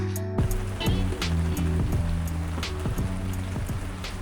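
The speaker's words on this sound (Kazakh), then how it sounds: "Жаңбыр күшті, аса бір жел жоқ." Heavy rain in Japan, with little wind, drums steadily on a surface, with a constant low hum and regular soft thumps running underneath.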